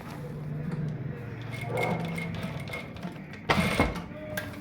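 A sewing machine runs in short stitching bursts while sewing a trouser pocket bone, a close mechanical whirring and clatter with a sharp louder rattle near the end.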